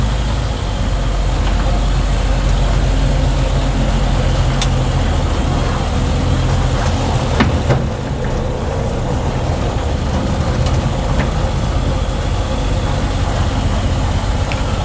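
A Ford Anglia E494A idles and is driven out at low speed, its small engine giving a steady, close, even hum throughout with no talk.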